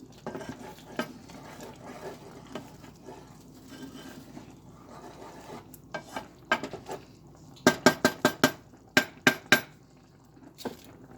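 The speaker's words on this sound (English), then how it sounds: "I'm gonna give it a stir." A spoon scrapes and clinks against a pot of gently simmering oatmeal, soft stirring sounds building into a run of sharp, close metallic taps against the rim near the end.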